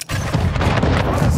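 Warships firing cannons at a ship in Anno 1800, a heavy low rumble of booming volleys running through the moment while someone talks over it.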